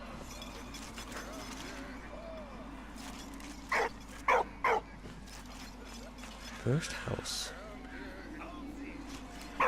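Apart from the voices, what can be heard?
dog barking in video game Valiant Hearts: The Great War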